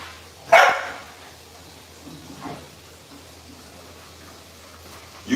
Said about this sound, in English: You keep barking